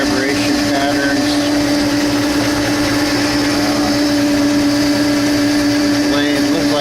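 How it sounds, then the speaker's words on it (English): A Logan 14 metal lathe makes a steady high-pitched mechanical whine and hum as it cuts metal, running continuously and loud throughout, with someone talking over it. "The lathe looks like it's moving a little, but the whole lathe is moving, so it's not interrupting the cut."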